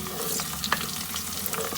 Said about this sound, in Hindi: और हम लोग प्याज़ों को फ्राई करेंगे।